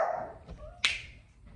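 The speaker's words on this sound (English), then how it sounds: "Excuse my dogs. They bark at the neighbors all the" A couple of house dogs let out a short bark and whimper near the microphone, a brief sharp yelp standing out against a quiet room.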